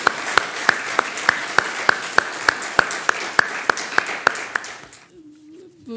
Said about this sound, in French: Je pense qu'on peut vous applaudir et puis ensuite place aux questions.